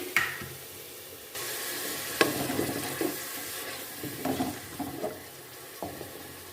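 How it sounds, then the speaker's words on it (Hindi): Onion and cumin frying in cooking oil in a pan. Oil poured in starts a steady sizzle, which continues under scattered stirring scrapes and clanks at close range. "अब इसमें हम कुकिंग ऑयल डालेंगे और इसको हम फ्राई कर लेंगे"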